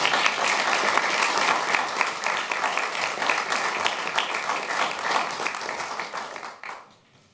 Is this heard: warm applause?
yes